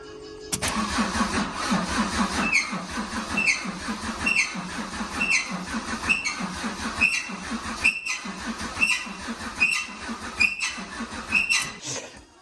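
A Fiat Punto donor engine fitted into a Panda 4x4 is turned over with the starter. It catches and runs roughly with a rhythmic, uneven knocking beat at close range, then cuts out.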